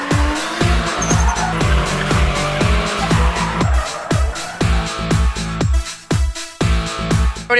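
Drift cars at a U.S. Drift Circuit round at Sun Life Stadium roar close by with a rapid, pulsing engine note and sustained tire squeal, loud and continuous with brief dips between bursts.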